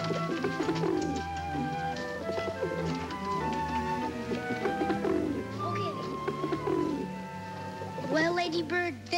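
Racing pigeons coo softly in a loft before a flying trial, a steady, rolling burble of overlapping low coos, with musical underscore from a 1963 television drama running beneath them.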